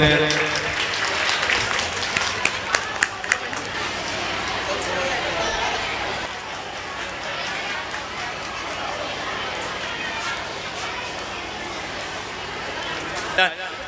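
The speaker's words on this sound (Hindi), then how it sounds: "तालियों से इनका स्वागत करें।" Audience applause at a girls' inter college cultural programme in Sadabad welcoming a guest, a steady wash of clapping running throughout at moderate level, with a few sharper claps early and brief voices mixed in.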